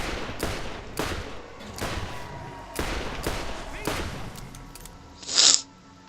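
Pistol gunfire in the video game Borderlands: a series of sharp shots at irregular intervals, about eight in six seconds, over steady game ambience, ending with a brighter burst.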